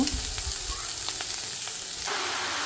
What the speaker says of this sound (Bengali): চিংড়ি মাছগুলো ভাজি হয়ে গেছে এখন নামিয়ে নিব